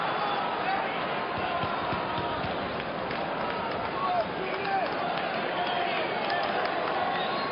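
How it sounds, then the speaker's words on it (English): Dense crowd roar fills a football stadium during a 1995 Liverpool versus Blackburn Rovers match, with half the fans on their feet. The noise holds loud and steady throughout, with no break or lull. "Half the crowd's on its feet."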